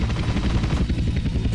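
Close and loud, a helicopter in GTA San Andreas churns with a steady, pulsing rotor thump and a low engine rumble that fill the whole brief stretch without a break.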